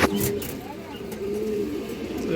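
Cooing from full-down-beaked pigeons rolls along as low, wavering burbles, close by, overlapping continuously with a few faint chirps above.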